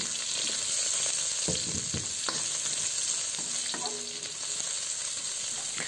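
Sliced onions sautéing with toasted garlic in a hot pan, a steady close sizzle with occasional scraping stirs of a utensil, no voices over it.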